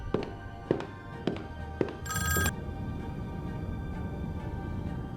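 A telephone in the Squid Game series rings in the control room, preceded by four evenly spaced soft thuds, then a single bright electronic ring burst followed by low ambient hum.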